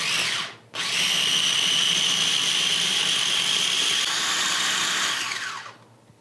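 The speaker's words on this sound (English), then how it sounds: "Now all you need to do is grind it all together." A loud electric grinder runs alone for about five seconds, blending black pepper with extra virgin olive oil. It is a steady high whirring drone that starts after a short blip and pause, then winds down at the end.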